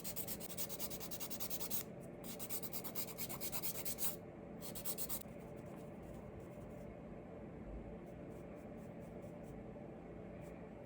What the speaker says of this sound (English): I'm going to take this and file